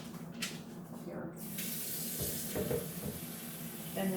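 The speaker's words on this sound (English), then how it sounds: "I'm going to put some water in the mixer" Tap water pours steadily into a Vitamix blender jar, a continuous close rushing hiss that grows slightly fuller as the jar fills.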